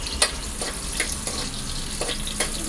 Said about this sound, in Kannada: ಇದು ಸ್ವಲ್ಪ ಗೋಲ್ಡನ್ ಫ್ರೈ ಬರೋವರೆಗೂ ಫ್ರೈ ಮಾಡಬೇಕು